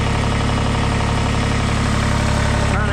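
Kubota BX2380 compact tractor engine running steadily at a low, even idle-like drone, loud and close throughout, with a slight shift in tone near the end as it creeps forward onto ramps.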